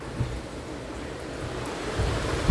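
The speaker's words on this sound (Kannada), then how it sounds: "ಇಷ್ಟೊಂದು ಮಳೆ ಬರ್ತಿದೆ ನೋಡಿ." Heavy rain pours down in a steady, dense hiss and roar, with water coming indoors. The rain is continuous and fairly close, with slight swells and no voices.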